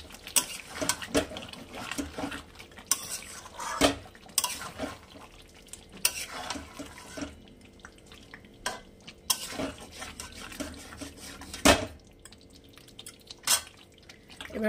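A pot lid comes off chicken korma simmering on a low flame, with sharp metallic clinks and scrapes scattered among soft bubbling, dripping and stirring sounds, close by and fairly quiet.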